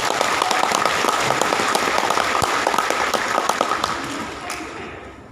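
Sustained applause from a large audience at a university graduation ceremony in Tangerang Selatan, steady dense clapping throughout that gradually thins and fades near the end.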